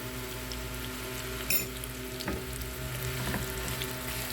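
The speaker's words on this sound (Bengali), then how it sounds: "এখন এখানে দিয়ে দেবো পেঁয়াজ কুচিটা একটু ভেজে নেব" Chopped onion frying in oil in a frying pan, a steady, moderate sizzle with a couple of brief stirring clatters, no voices.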